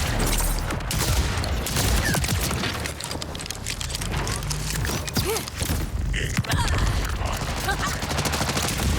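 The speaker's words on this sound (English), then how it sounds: "Shotgun." Shotgun firing in the video game Borderlands 4 amid a chaotic firefight, loud repeated blasts and rapid gunfire mixed with booms and footsteps, dense and continuous throughout at close range.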